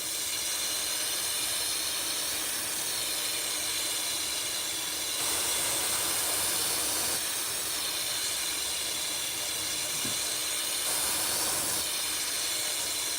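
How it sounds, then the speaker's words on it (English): A paint touch-up spray gun turned down to an airbrush-like setting hisses steadily and loudly close up while laying candy paint and patterns over silver metalflake, its airy spray swelling slightly in a few passes with no talking. "this touch-up gun dialed down, kind of airbrush mode"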